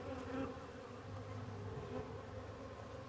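Honey bees buzz steadily at an open hive during a beekeeping inspection, a continuous close drone with no talking over it.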